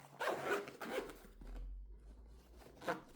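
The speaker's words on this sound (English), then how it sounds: "Zipper feels pretty good as well." A zipper on the carrying case of a NearStream AWM25T wireless smartphone microphone is drawn in a few quick rasping strokes, close and clear, with a short pause midway and a final zip at the end.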